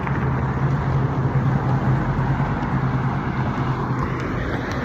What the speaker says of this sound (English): sorry about the background traffic.